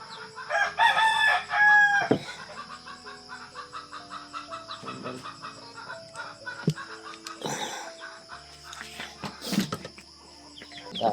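Chickens cluck in a farmyard while a rooster gives a loud, clear crow near the start, followed by scattered clucks, squawks and a few more crowing calls at close range.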